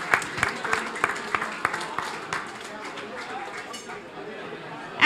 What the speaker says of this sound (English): can we give a big round of applause to our sponsor for this event